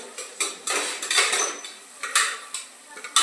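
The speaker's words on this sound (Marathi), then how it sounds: "कांदा चांगला परतून घेते" Onion being sautéed in a pan with curry leaves, heard as repeated rhythmic scrapes and clinks of a metal spoon against the pan over a soft background, with no voices.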